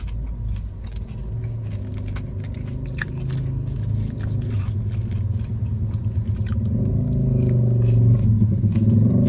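Crunchy fried potato made from fresh potatoes being bitten and chewed, a steady close run of crisp crackling bites and mastication with low background hum, growing slightly louder toward the end; no talking.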